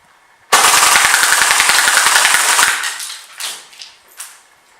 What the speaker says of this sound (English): the AK-47 on full auto